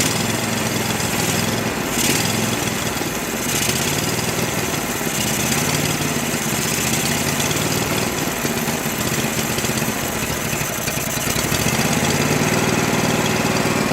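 A small old Go-For digger engine runs continuously at a rough, steady idle while warming up, loud and close with no talk.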